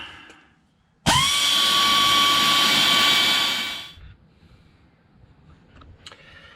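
Power tool spinning out rear differential cover bolts on a 1994 G20 van, one loud steady whine of about three seconds that winds down, then quiet workshop background.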